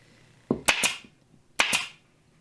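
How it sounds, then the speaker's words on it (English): A pass-load pneumatic upholstery staple gun firing 3/8 staples through gray fabric on a bench seat gives two close pairs of sharp, loud snaps with quiet gaps between them. "here I'm using a pass load upholstery gun with 3/8 staples"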